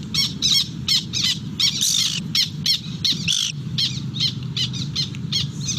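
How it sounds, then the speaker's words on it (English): A Black Tern chick calls while upset parent terns answer with repeated sharp, loud alarm calls in quick bursts over outdoor wetland noise during banding. "he's old enough to be calling back to the parents. And the parents are very upset as well."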